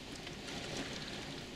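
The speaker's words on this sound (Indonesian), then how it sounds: "suara rintikan hujan yang ada di video ini" Steady rain pattering down near a house, a dense continuous hiss of drops with no pauses or voices, moderately loud and even throughout.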